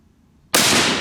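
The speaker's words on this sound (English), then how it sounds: "that was a good shot technically, because I didn't have any idea when the round was going to go off" Single loud rifle shot from a Remington SPS fired at a 200-yard target, cracking in abruptly after a near-silent half second and ringing on at full volume.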